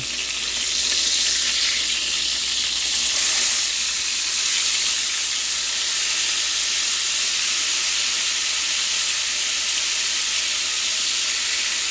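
Beef burger patties sizzling in a frying pan, a loud, steady hiss and crackle of fat and steam held close and continuous throughout, with no talk.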